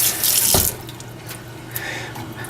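Hands being washed with dish detergent under a running tap at a sink, a steady rush of water with splashing and a brief louder gush near the start; close, with no voices.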